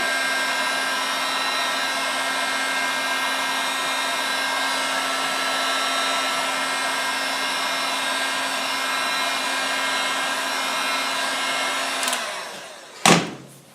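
A hair dryer or heat gun warming the plastic coating on a car gear stick handle gives a steady, close airy roar for about twelve seconds, then cuts off with a sharp click and a brief thump.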